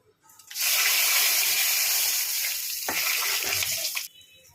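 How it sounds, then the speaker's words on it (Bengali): Whole spices (dry red chilli, bay leaves, cumin, cinnamon, cloves and cardamom) drop into hot oil and burst into a loud, steady sizzle that holds for several seconds, crackles a little, then cuts off abruptly. "ওই তেলের মধ্যে আমি এই গোটা মশলাগুলো দিয়ে দেবো একটা শুকনো লঙ্কা দুটো তেজপাতা সাদা জিরে আর দারচিনি লবঙ্গ এলাচ"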